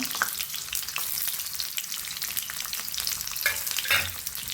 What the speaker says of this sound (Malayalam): നമ്മൾ കട്ട് ചെയ്ത് വെച്ച ഉള്ളി ഇട്ട് കൊടുക്കാം കേട്ടോ ചെറുള്ളി കട്ട് ചെയ്ത് വെച്ചിട്ടുണ്ടായിരുന്നു